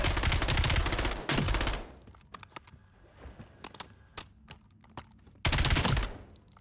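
Video game guns fire in long automatic bursts, loud and close, with separate single shots and brief clatter in between and another heavy burst near the end.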